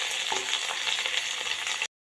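Whole cinnamon and cardamom spit and crackle in hot oil, a dense, bright, close sizzle that runs steadily for about two seconds and then cuts off abruptly.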